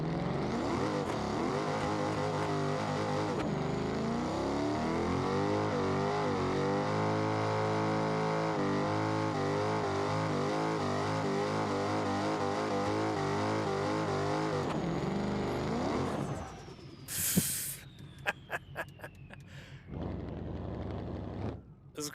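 A car engine in the BeamNG driving game drones steadily and loudly for about fifteen seconds with shifting pitch, then breaks into uneven bursts, revs and sharp noises toward the end.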